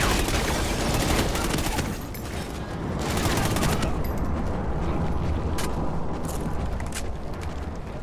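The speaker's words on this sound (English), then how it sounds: "They are suppressing fire." Suppressing gunfire in the Call of Duty Ghosts campaign, dense overlapping bursts of automatic rifle fire and sharp cracks in a loud, sustained fusillade over eight seconds.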